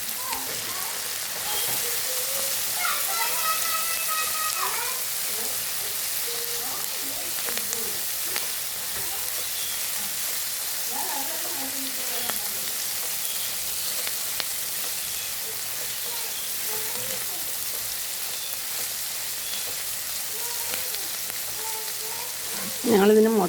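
Ginger and garlic sauté with salt in a pan, a soft, continuous sizzle with occasional stirring scrapes and clinks, fairly quiet, with brief speech in places.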